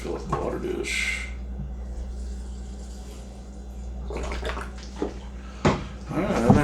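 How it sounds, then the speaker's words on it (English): Water is poured into the water dish of a feather leg tarantula enclosure, a short splashing pour near the start followed by brief trickles, with someone talking over part of it. "Alright, fill up the water dish."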